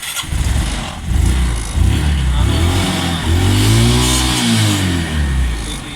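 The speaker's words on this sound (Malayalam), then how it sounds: "പിന്നെ സെൽഫ് സ്റ്റാർട്ട് ഇതാണ് വരുന്നത്" Engine of a homemade Lamborghini Huracan replica starting up by self-starter and running through a Duke motorcycle exhaust, a loud close rumble with rising revs, while voices talk over it.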